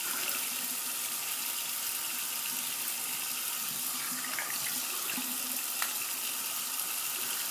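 A faucet running steadily into a sink while shaving, a constant close hiss and splash of water with small clinks, no one speaking.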